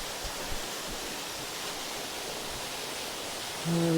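A waterfall roars as a steady, broad wash of falling water, heard from behind it inside a cave in County Durham, continuous and fairly loud with no speech over it.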